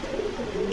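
Pigeons cooing at a pigeon farm in Bogura, with several soft, low, continuous coos overlapping at close range and no talk over them.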